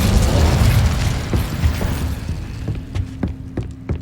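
Incendio fire spell cast in Hogwarts Legacy, a loud burst of roaring, crackling flame that fades over a few seconds into scattered sharp pops and clicks.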